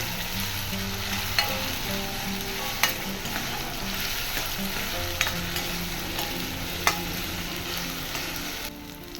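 A Goan tempering for catfish ambot tik frying in a pan, a dense, loud, continuous sizzle with a few sharp clicks of a stirring spoon spaced through it.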